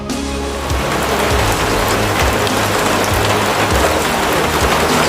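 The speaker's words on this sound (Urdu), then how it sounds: "آسمان سے موسلادھار بارش ہونے لگی۔" Heavy rain pours down in a steady, dense hiss of countless drops, loud and unbroken for several seconds with no voices.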